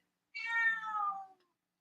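A single drawn-out cat meow, close and clear, rising then falling over about a second, with silence around it.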